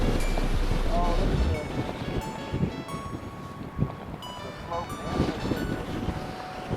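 Strong wind from a severe wind storm on a golf course roars over the microphone, loudest at the start and then gusting unevenly, with people talking under it.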